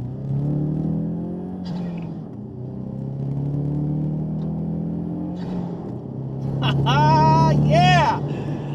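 A COBB stage 3 tuned Ford Mustang engine accelerates hard, a steady low drone that builds louder toward the end with a rising whine, while people talk over it throughout.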